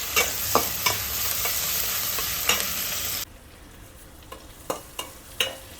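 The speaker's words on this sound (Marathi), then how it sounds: "जिरं तडतडल्यानंतर आपल्याला यामध्ये कांदा घालायचा आहे त्यानंतर टॅमॅटो आता हे सगळं आपल्याला परतून घ्यायचं आहे" Onion and tomato stir-fry in a pan after cumin seeds have crackled: loud steady sizzling with spatula scrapes for about three seconds, then an abrupt drop to quieter, sparser clinks and scrapes.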